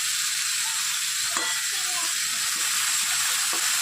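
Cauliflower, potato and slit green chilies frying in a pan give a steady bright sizzle, with a few soft stirring scrapes and clinks.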